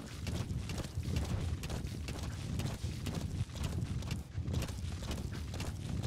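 Horse hooves clip-clop steadily in Metal Gear Solid V: The Phantom Pain, a continuous galloping rhythm close by that fills the whole stretch at moderate loudness with no talk over it.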